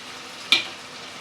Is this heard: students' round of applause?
no